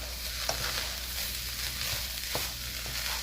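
Rice and vegetables for southern dirty rice being stirred and sautéed in a pan: a steady moderate sizzle with a few soft scraping knocks from the spoon, no talking.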